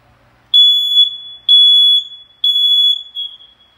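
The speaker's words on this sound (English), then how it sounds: "The main fire alarm system is getting tested." A building's main fire alarm system under test gives three loud, piercing electronic beeps, each about a second long with short gaps between, followed by a fainter fourth tone, with no voices.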